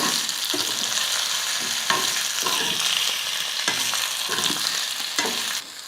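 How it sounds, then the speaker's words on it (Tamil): Boiled vegetables fry in oil for a Tamil varuval dish, giving a steady, close sizzle with a series of soft scrapes as the pan is stirred, and no talking. "ஒரு நிமிஷத்துக்கு வந்து எண்ணெயிலேயே நல்லா வறுத்துக்கலாம்"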